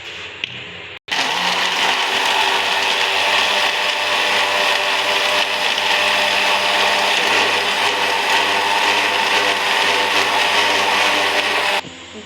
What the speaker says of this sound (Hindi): ये हमारे थोड़ी सी बर्फ़ डालेंगे और इसे करेंगे अच्छे से ग्राइंड।